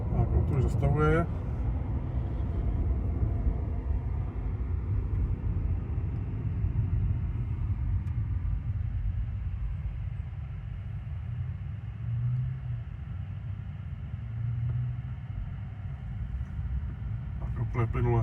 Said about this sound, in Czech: Úplně plynule se rozjíždí za nima.